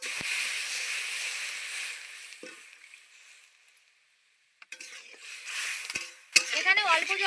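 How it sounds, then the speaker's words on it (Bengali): Water poured onto lightly roasted semolina in a hot pan gives a loud hiss that fades out, then a second burst of sizzling steam returns toward the end. "সুজিটা হালকা করে ভেজে নেওয়া হয়ে গেছে। দিয়ে দেবো এবার জল।"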